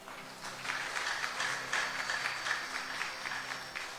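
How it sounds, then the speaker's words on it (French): A church congregation claps for a few seconds, steady moderate applause with scattered individual claps, somewhat distant and fairly quiet. "Est-ce qu'on applaudit le Seigneur pour sa bien-aimée?"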